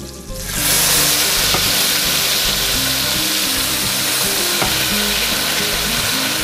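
Browned meatballs in a hot pan burst into a loud, steady sizzle as tomato sauce is poured in, with a few soft clinks of stirring, no voices.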